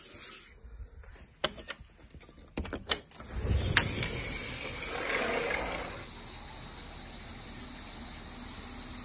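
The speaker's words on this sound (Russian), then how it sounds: "Идем, сестренки, слушать цикад." A few clicks and rustles give way to a dense, steady, high-pitched drone of cicadas chirping all around in hot weather in Cyprus, continuous and loud.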